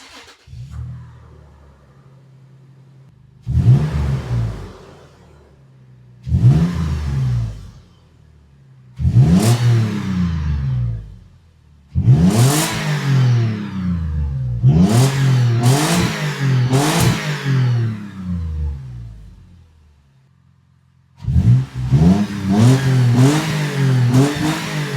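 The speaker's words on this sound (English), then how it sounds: "It's the Flowmaster FX Extreme downturn exhaust." A truck fitted with a Flowmaster FX Extreme downturn exhaust gives a series of loud, rumbling rev blips, each rising and falling back to idle, the later ones sharper and closer together, with quiet pauses in between.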